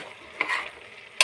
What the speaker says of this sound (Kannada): ಚೆನ್ನಾಗಿ ಅದನ್ನು ತಿರುಗಿಸಿ ಮಸಾಲೆ ಅದಕ್ಕೂ ಹಿಡಿಯೋ ಥರ 1-2 ನಿಮಿಷ ಚೆನ್ನಾಗಿ ಬೇಯಿಸ್ಬೇಕು.